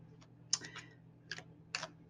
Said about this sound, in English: whipping right through these cards for you and getting them all mixed up and getting them shuffled